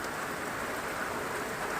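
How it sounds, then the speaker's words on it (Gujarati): Steady rain falling outdoors after a dry spell, a dense continuous hiss of drops close by with no break and no voices. "આવ્યો વરસાદ"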